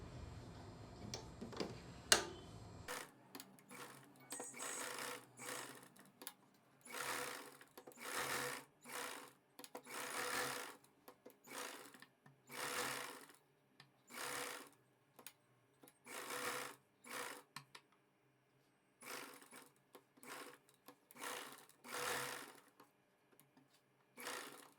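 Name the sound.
sewing machine stitching blouse lining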